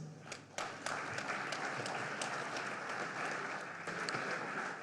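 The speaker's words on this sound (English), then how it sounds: "Please, a round of applause for them." Audience applauding an award winner at a Nigerian economic summit ceremony: many hands clapping in a sustained, moderately loud wash, beginning with a few scattered sharp claps before swelling into steady applause.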